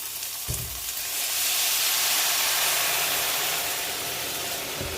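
A loud, steady sizzle swells after a brief splash of water into a hot pan of softened tomatoes for Mexican rice, hissing and bubbling continuously without voices.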